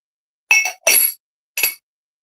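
Clear glass Fostoria design sugar bowl with its lid clinking: three bright, ringing glass chinks close by, two in quick succession and a third after a short pause, with no talk.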